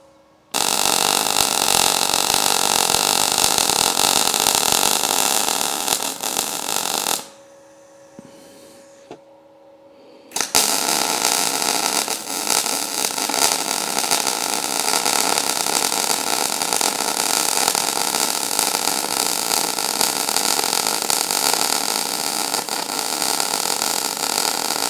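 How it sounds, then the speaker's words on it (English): A new piece of thick steel is welded into an old rusty frame, giving a loud, steady buzzing hiss that runs almost throughout and cuts out for a few seconds before resuming, with no talking. "So I'm going to weld it in."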